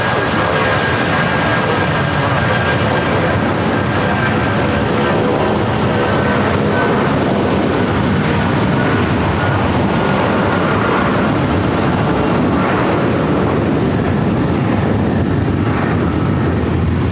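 A Boeing 757 jet on its takeoff roll at LAX, a loud, steady broadband roar that swells slightly and holds for the whole stretch, heard from a distance with no talking.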